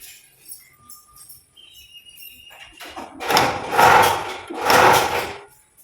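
A handloom weaving cloth in a workshop, sounding as a few faint clicks followed by two loud, harsh rhythmic clattering bursts of the shuttle and beater, close by.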